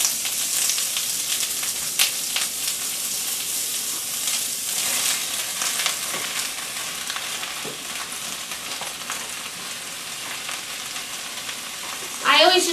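Vegetables fry in olive oil in a pan with a constant close, bright sizzle, steady for the whole stretch, with a few stirring scrapes and a brief louder clatter near the end.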